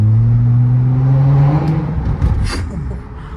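A straight-piped Nissan Altima exhaust drones and revs close by in a New York tunnel, a steady low roar that climbs in pitch and then tapers off, with no talk over it.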